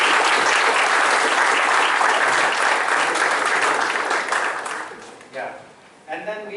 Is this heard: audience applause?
yes